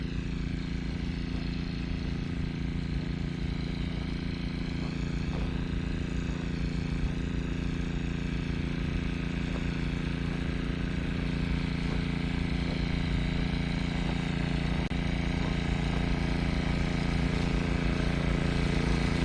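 A water pump motor runs steadily near a field, giving a continuous low droning hum with a slight rough pulse and no change in level throughout.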